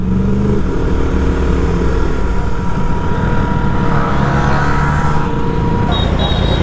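A Yamaha R1 1000cc superbike engine roars loud and steady at close range, with a brief rise in pitch near the end.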